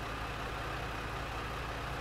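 A tractor engine in Farming Simulator 17 runs steadily with a low, droning rumble, constant and unbroken throughout.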